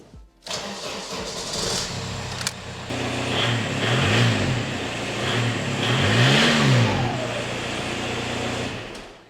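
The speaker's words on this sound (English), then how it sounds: "Oh, I should get the before and after sound. Start the car." A 1.9 TDI diesel car engine with a straight-piped exhaust cranks and catches, then settles into a steady idle with a couple of revs swelling up and down, loud and close.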